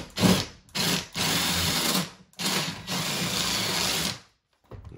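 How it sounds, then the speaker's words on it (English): A power drill whirs in several short bursts and longer runs, close by, the motor pitch shifting as it bores a hole into a wall for an over-the-range microwave installation, then stopping. "I'm just gonna hold it right at that mark, drill a hole."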